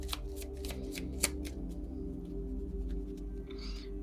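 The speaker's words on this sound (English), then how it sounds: "I'm being told one more shuffle." A deck of tarot cards is riffled and shuffled by hand, soft papery flutters and taps close by over a low steady hum.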